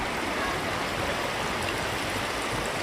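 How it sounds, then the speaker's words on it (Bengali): Strong current of the Ganges at Rishikesh rushes past as a dense, steady roar of water, loud and close throughout with no voices. "স্রোত কিন্তু প্রচুর"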